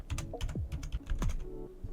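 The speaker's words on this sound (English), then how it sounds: "So let's type there the email." Quick bursts of keys on a computer keyboard as an email address is typed in, with close, crisp clicks in an uneven rhythm and no voices.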